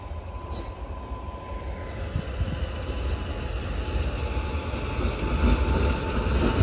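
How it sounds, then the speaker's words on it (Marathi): A freight train carrying tempos and tractors rolls past on a track in Old Goa, a heavy close rumble with squealing wheels that grows steadily louder throughout. "कुठली ट्रेन आली माहिती?"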